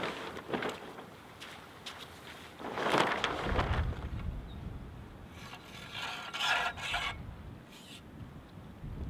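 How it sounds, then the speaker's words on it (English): Windsurf sail, a 2015 Aerotech Rapidfire twin-cam, being unrolled outdoors for rigging: steady rustling and rubbing of sail cloth with crinkly swishes and scrapes, close and moderately loud under light wind noise, no talking. "unclip the elastic band, roll the sail out, head to the wind."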